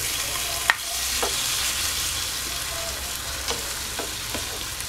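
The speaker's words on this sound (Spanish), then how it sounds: "Revolvemos muy bien. Dejamos que el vino evapore para ahora incorporar el caldo de pollo." Chicken thighs sizzling in a pan with wine evaporating and cinnamon, a steady close frying hiss punctuated by several clinks and scrapes of stirring.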